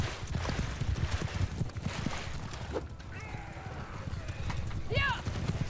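Horse hooves galloping in the medieval combat game Mount & Blade II: Bannerlord, a steady clip-clop running throughout amid battle noise and shouting voices, with a brief whinny near the end.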